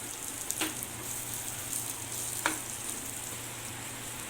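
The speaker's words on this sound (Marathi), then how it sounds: "यामध्ये एक वाटी ओल्या नारळाचा कीस टाकून परतवून घेऊया" Grated fresh coconut sautéed with garlic cloves and ginger in a pan: a steady soft sizzle throughout, broken by two brief scraping stirs, with no voices.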